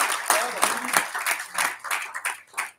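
Audience applause at a Hindi poetry gathering, a dense patter of clapping hands that rises and falls unevenly over about three seconds, moderately loud and fading toward the end.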